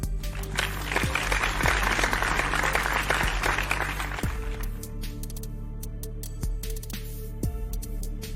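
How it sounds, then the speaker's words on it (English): A class applauding for a girl named Valerie: steady, dense clapping from a small indoor group holds throughout, with a faint voice partly beneath it. "A round of applause for Valerie"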